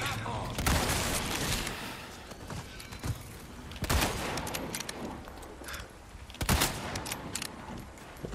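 Gunfire from Resident Evil 4 Remake as a player shoots a cow, several loud sharp shots spaced irregularly over steady game background noise.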